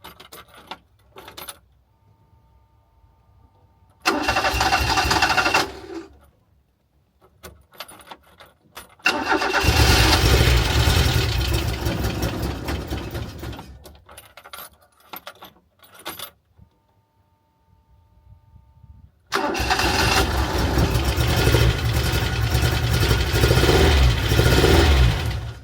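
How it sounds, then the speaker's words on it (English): A Vauxhall Nova is cranked over several times, catching and running rough with a misfire, in loud bursts of engine noise separated by quiet pauses and the jingle of keys. "that is the Vauxhall Nova running again. Unfortunately it is misfiring"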